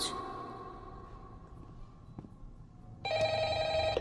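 A telephone in the Five Nights at Freddy's Doom game mod rings with a steady electronic bell tone starting partway through, loud and close, after a quieter stretch of background hum.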